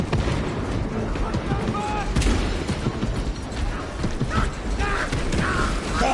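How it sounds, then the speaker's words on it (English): Small arms gunfire in a Warhammer 40k video game, a dense, continuous battle din of shots and mechanical clatter at steady loudness, with booming impacts mixed in throughout. "Small arms fire."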